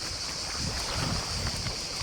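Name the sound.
strong wind by the seaside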